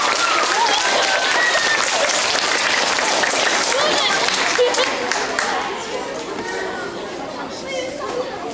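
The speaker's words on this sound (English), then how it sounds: "if we could get one more round of applause for our students" A school audience at a fifth grade farewell applauds the students, sustained crowd clapping with excited chatter and cheers mixed in, loud at first and easing slightly after five seconds but continuing to the end.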